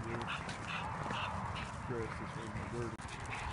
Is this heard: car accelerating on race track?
no